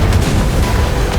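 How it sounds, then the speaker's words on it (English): Dense, continuous rumbling explosions boom close and all around during an artillery barrage on Sturmtiger and L3 tankettes climbing uphill in the War Thunder tank game, with no clear gaps between blasts. "So many explosions happening all around him at this part"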